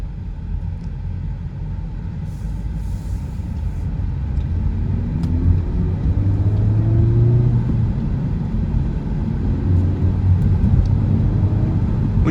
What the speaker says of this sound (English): When you drive these with the windows down, the turbo noise is really loud and clear